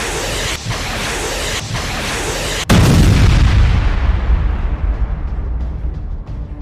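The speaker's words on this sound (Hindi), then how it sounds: "हाइफा के दक्षिण में इजरायली सेना के तीरथ कारमेल बेस पर नस्र 2 रॉकेट दागे गए" Nasr-2 rockets fired at an Israeli army base south of Haifa: a loud, rushing roar, then a sudden heavy blast with deep rumble that slowly fades.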